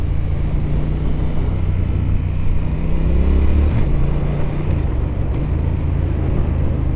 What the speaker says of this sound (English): Other factors that mean I really love it as well include the sound of the exhaust.